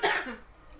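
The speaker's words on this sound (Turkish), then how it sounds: "Öksürük çok kötü arkadaşlar." One short, close cough from a sick person in a rural village home, a brief harsh burst that quickly fades, heard alone.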